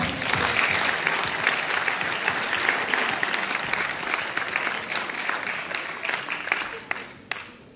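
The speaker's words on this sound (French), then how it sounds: "On peut les applaudir, je crois." An audience applauds at a sports ceremony in Florange, a sustained, full round of many people clapping together for several seconds, easing off near the end with a few isolated claps.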